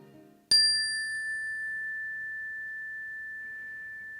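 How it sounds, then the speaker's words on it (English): A single chime strikes once with a sharp attack, then its bright, pure tone rings and slowly decays for several seconds in near silence. "get ready to breathe while you listen to the Chime"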